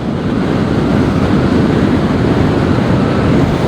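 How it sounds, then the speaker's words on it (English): Strong wind roars continuously while riding an electric motorcycle on a road in Kazakhstan, buffeting loudly with a broad rushing noise and no talking. "Awesome. It's windy. I'll close my windshield."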